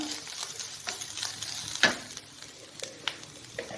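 Ivy gourd frying in a pan with salt while being stirred, with a quiet sizzle and a handful of soft scrapes plus one sharper clack from the utensil, close and fairly faint, no speech.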